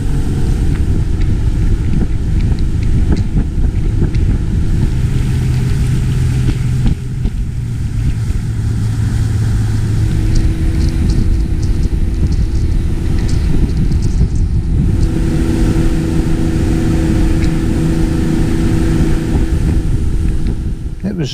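A RIB cruising at 22 knots over calm sea in the rain, with a loud, continuous engine drone and rushing water and wind buffeting the microphone, steady throughout.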